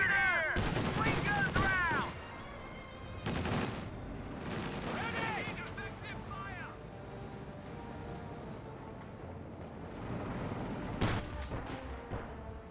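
A Vickers machine gun firing in Company of Heroes 2, mixed with other battlefield gunfire: sharp bursts and impacts recur through the stretch, some louder ones near the start and the end, with narration running throughout.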